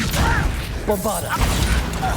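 A Bombarda blasting spell in the Hogwarts Legacy video game goes off as a short crashing whoosh and impact burst, with a voice calling out the spell over the effects.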